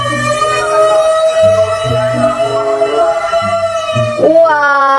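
A toy fire truck plays an electronic siren, a loud close wailing tone with rhythmic lower pulses underneath that rises sharply near the end.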